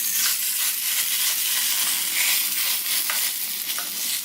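A potato set into a hot metal ring fries with a loud, steady sizzle, a dense crackling hiss that stays unbroken and close throughout.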